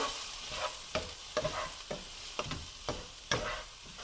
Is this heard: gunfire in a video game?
no